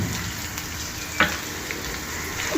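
Grated raw mango for mango rava pulihora sizzles in a pan with turmeric, a steady close frying hiss broken by one sharp scrape of the spoon.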